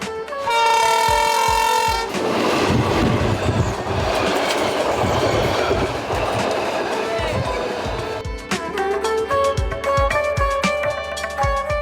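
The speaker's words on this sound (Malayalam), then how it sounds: "ഇളമ്പള്ളൂർ ദേവീക്ഷേത്രത്തിന് സമീപത്തു കൂടിയാണ് കൊല്ലം ചെങ്കോട്ട റെയിൽവേ ലൈൻ കടന്നു പോകുന്നത്" A train passes on the Kollam–Chenkotta railway line beside the Ilampalloor Devi temple in Kollam. Loud horn blasts open and close it, with a close, heavy rumble and clatter of wagons in between.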